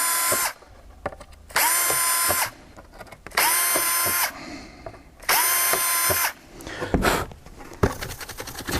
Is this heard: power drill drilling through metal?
yes